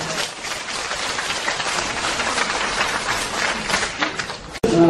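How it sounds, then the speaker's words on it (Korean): An audience at a lecture bursts into steady, sustained applause welcoming the speaker, many hands clapping at moderate distance before it cuts off abruptly at the end. "여러분 김종덕 교수님을 큰 박수로 맞아주시기 바랍니다."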